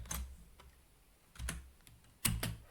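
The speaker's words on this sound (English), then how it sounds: "I'm just going to type" Keys on a computer keyboard are tapped in a few short, quiet bursts with gaps between them, close by and alone with no talk.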